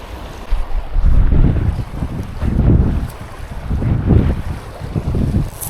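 Wind gusts across a river, buffeting the microphone in heavy low rumbles that swell and fade in several surges, loud and close, with no talk over it.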